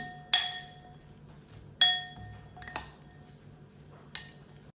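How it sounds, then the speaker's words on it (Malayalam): Metal utensils clink sharply against a bowl or plate while vegetables are mixed for a healthy Kerala breakfast, with a handful of bright, separate strikes over quiet kitchen background. "ഇതെല്ലാം കൂടെ ഒന്ന് മിക്സ് ചെയ്തെടുക്കാം."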